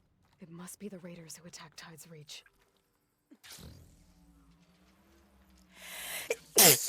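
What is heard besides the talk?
sneeze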